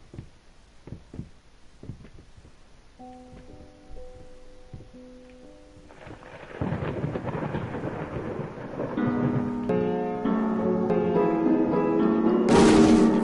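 Rain and rolling thunder in the horror game Layers of Fear start as scattered drops and faint rumbles, then swell into a loud, continuous storm mixed with ominous piano-like tones.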